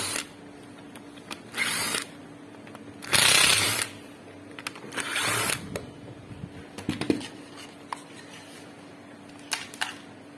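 Bursts of a small power screwdriver whirring in short runs while unscrewing a Makita cordless drill's housing, with clicks and handling noises of plastic and metal parts in between.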